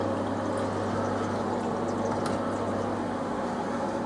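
A Braumeister brewing machine's pump quietly recirculates wort, making a steady low hum with a soft liquid wash that stays even throughout, with no speech.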